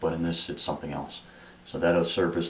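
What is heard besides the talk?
No distinct noise like a dog, phone or traffic.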